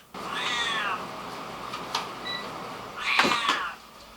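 A cat meows twice, close and clear, with a drawn-out cry at the start and a second, louder one a few seconds later, with a faint click between them in a quiet kitchen.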